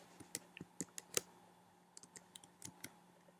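Keystrokes on a computer keyboard, typed while composing a reply on a discussion board: a string of sharp, close clicks in irregular bursts, with short pauses between them and no talking.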